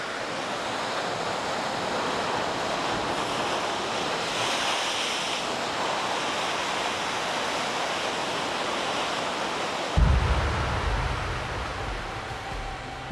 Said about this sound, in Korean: 마을의 반대편 해안은 늘 거센 파도에 크게 술렁입니다